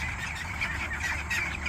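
Ducks on a ranch squawk and quack in a dense, continuous chorus nearby, a busy flock calling over one another with no break.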